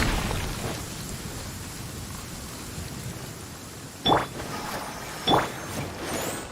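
Steady rain hisses in Genshin Impact, a soft, even wash of droplets with two brief sharper swells of sound partway through.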